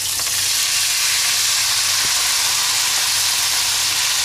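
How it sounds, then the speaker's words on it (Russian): Chanterelle mushrooms fry in a pan with a loud, continuous sizzle and hiss, close up and steady throughout with no talking. "Сначала я обжарю наши лисички до готовности."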